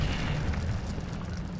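Incendio fire spell cast in the Hogwarts Legacy video game, a steady low roaring whoosh of flame with a rumbling boom character, sustained and fairly quiet throughout the short moment with no talk.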